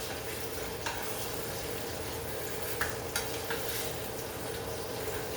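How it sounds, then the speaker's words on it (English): A pork chop sears in a hot pan with butter nearby, giving a steady soft sizzle and crackle throughout, broken by a few brief scrapes and clinks of a utensil against the pan. "Pork chop's starting to cook a little bit. Here, it's searing over there, right?"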